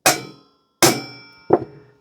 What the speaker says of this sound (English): I tried a larger screwdriver with a bit of a tap with a hammer just to sort of reseat the screwdriver in the slot